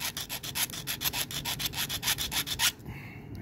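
Quick, rhythmic back-and-forth rasping of sanding a nail, about a dozen even strokes close up, then it stops abruptly.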